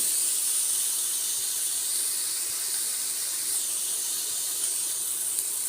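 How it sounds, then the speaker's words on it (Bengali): Noodles fry in a small amount of oil, giving a steady, soft, even hiss that continues without a break, with no voices. "খুবই অল্প তেলে ভাজতেছি"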